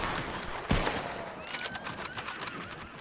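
A firing squad volley in a Red Dead roleplay western game, one sharp loud crack followed by quieter scattered pops and faint ambient game sound.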